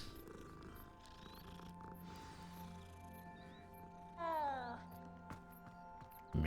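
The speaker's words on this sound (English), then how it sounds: "So many cats." A cat in Hogwarts Legacy purrs softly under game music and a person talking, with a brief meow-like rising call in the middle.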